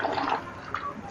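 Water from the Neer waterfall near Rishikesh splashes and rushes in a steady, close wash of white noise, with no voices.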